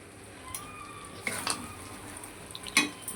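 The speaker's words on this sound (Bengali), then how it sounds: "কড়াইটা শুধু নড়ে যাচ্ছে।" A metal wok rattles on a stove while mutton is fried with spices, giving a faint background sizzle broken by several sharp metallic clanks and scrapes, the loudest near the end.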